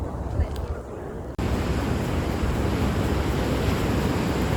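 Out at sea on cold ocean water, wind buffets the microphone over a steady rush of waves. The roar cuts out briefly and then returns stronger and unbroken.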